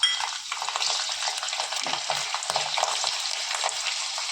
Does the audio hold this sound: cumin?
yes